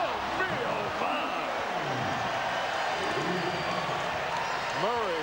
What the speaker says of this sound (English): Murray brings the crowd to life.